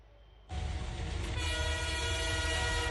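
An Indian Railways train roars past close by, starting suddenly after a quieter lead-in and then holding a loud, steady rumble with a sustained horn-like tone over it and faint rail clatter, no voices.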